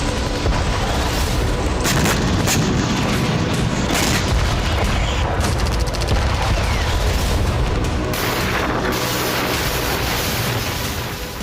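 Artillery shelling and explosions in eastern Ukraine, heard as a dense, continuous roar of booms and blasts, loud and sustained with no clear gaps.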